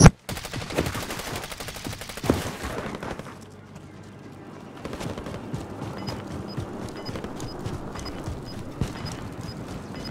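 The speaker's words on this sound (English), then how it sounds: "Rounds from the left again. Sniper rounds from somewhere." Call of Duty gunfire from a squad battle royale match, with rapid volleys of cracking shots and sniper rounds, a brief lull, then further bursts and scattered distant shots.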